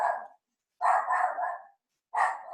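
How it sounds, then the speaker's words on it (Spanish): A small female dog barks sharply three times, close and loud, with short silent gaps between the bursts and no other sound. "Recoge la perrita y sácala."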